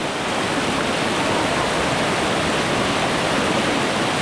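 Rushing floodwater of a swollen river in El Salvador, with churning waves: a dense, loud, unbroken roar of turbulent water with no talk.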